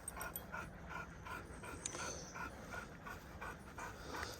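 Several excited dogs pant rapidly and steadily at close range during a pack walk, the breathy rhythm continuous with occasional small whimpers mixed in.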